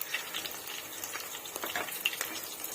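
Ginger-garlic paste fries in hot oil, giving a soft, steady sizzle with faint crackles and light stirring scrapes, quiet and close.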